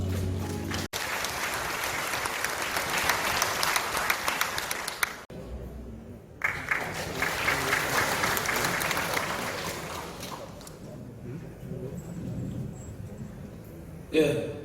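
A crowd at the launch ceremony for the 2022 Yeongju World Punggi Ginseng Expo applauds the Yeongju city council chairman, long, dense clapping with brief breaks, fading somewhat toward the end before a final burst.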